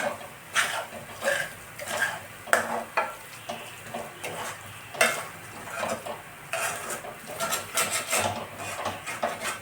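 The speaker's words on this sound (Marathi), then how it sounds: "छान असं बारीक गॅसवर याला भाजत राहायचं आहे सारखं सारखं असं चम्मच देत" Moong dal halwa roasting in ghee over a low gas flame, a soft frying sizzle under repeated scraping and clinking of a spoon against the pan in an uneven stirring rhythm.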